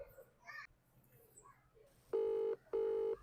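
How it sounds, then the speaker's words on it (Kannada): A phone call ringing out as two loud, evenly spaced electronic ring bursts near the end, after some faint background sounds. "ರಿಂಗ್ ಆಗ್ತೈತಾ? ಹಾಂ, ರಿಂಗ್ ಆಗ್ತೀನ."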